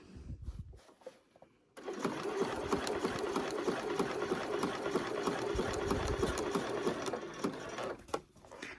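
A sewing machine bastes an elastic waistband onto a garment, a close, steady whirring run of several seconds after a few quiet handling sounds, ending with brief stops and rustling.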